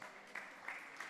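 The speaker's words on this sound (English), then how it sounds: "Big round of applause." Audience applause at a live ideas-pitching event, a short, faint burst of steady clapping with a few sharper peaks.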